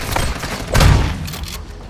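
A shotgun blast in the video game Call of Duty MW2, one heavy booming shot standing out over lighter background gunfire and game noise.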